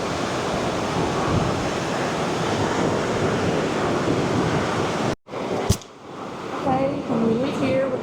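Little River Canyon Falls, a 45-foot waterfall on Lookout Mountain, gives off a steady broadband roar for several seconds before the sound cuts away to quieter outdoor ambience with faint voices.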